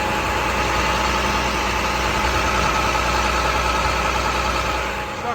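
A 2012 International 4400 crane utility truck with an Autocrane 6406H, its diesel engine idling steadily with a deep, even rumble, loud and close throughout.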